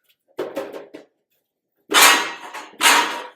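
Hammer blows on sheet metal while fabricating a custom car roof: a few sharp metallic strikes, then two loud, ringing impacts separated by a short pause.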